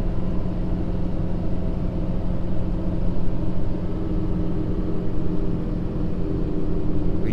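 Ford Powerstroke diesel truck engine with an S&B air intake, pulling a 31,000 lb load uphill in second gear at about 20 mph; a steady, loud low rumble and drone that holds throughout, with no talk.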